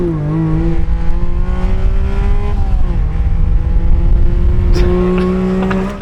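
A kei car powered by a motorcycle engine, set up with nitrous, revs hard close by, the high buzzing engine note rising in pitch, dipping at a shift, then climbing again; no talk.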